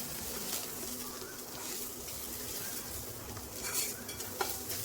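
Crushed garlic frying in oil in a pan while bitter gourd curry is cooked, giving a quiet steady sizzle with light stirring and a faint utensil tap near the end, with no talking.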